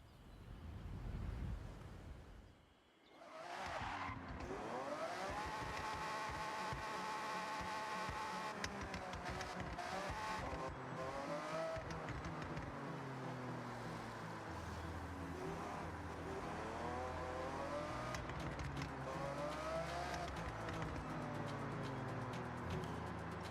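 A Lamborghini Aventador engine in the racing game Forza Horizon revs and shifts, its pitch rising and falling through gear changes as the car drives continuously and moderately loud.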